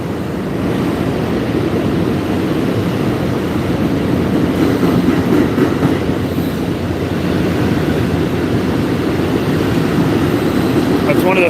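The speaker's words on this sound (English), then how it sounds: "That Amtrak, yeah, that's a regional 178, I think he said. It's going to Springfield." An Amtrak regional train passes through a station with a loud, continuous roar and rumble that holds for the whole stretch, over faint background voices.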